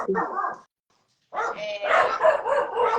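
Dogs bark in a burst of sharp yaps, go silent for a moment, then start up again with several overlapping barks close by.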